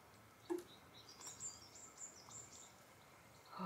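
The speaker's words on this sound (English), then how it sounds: "Can you hear the birds?" Faint birdsong drifts through a home vegetable garden where seeds are being sown and watered, with a few scattered chirps and thin whistles at a distance over quiet background.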